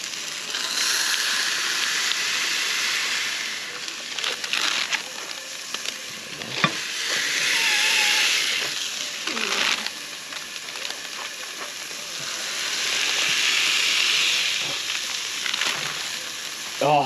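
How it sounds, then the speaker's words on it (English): A burger patty sizzles and fries on an oiled griddle at a campsite, a steady loud crackling hiss that swells and eases over several seconds, with faint talk in the background. "And let's get a burger on it."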